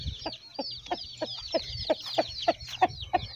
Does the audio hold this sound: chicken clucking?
yes